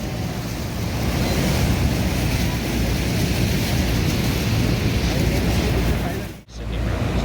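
A constant, loud broadband roar of water from Niagara Falls, heard up close from a tour boat in the mist, with wind buffeting the microphone; the rush drops out briefly near the end before resuming.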